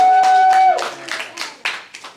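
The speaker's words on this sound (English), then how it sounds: "Round of applause." A small group gives a brief, scattered round of claps after a practice performance, a handful of sharp hand claps spaced irregularly and following a short sustained voice at the start.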